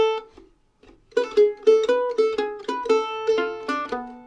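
A mandolin plays a swing phrase, a brief count-in pluck, then a run of crisp, bright picked notes in steady swing rhythm, close and clear with no talking.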